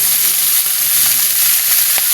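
Duck caldereta ingredients with pepper fry in a pan, giving a loud, dense sizzle that crackles continuously up close, with a few brief stirring clinks and no talking.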